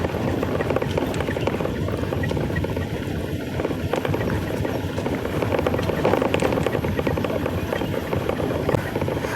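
A vehicle rolls without throttle down a slippery forest hill road in the Western Ghats, giving a steady, dense rumble of engine and road noise that fills the whole stretch, with no talk.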